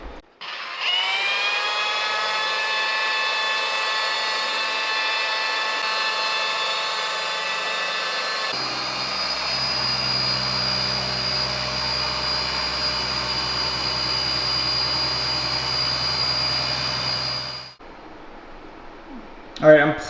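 A machine polisher whines steadily for a long stretch polishing sand scratches out of a 2017 Mercedes GLS450's paint, its pitch shifting partway through before it winds down and stops.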